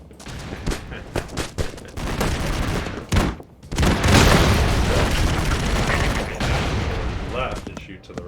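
Video game gunfire in Hackfort, with rapid bursts of shots and booms followed by a sustained roar of firing and explosions, loud and close, with talking over parts of it.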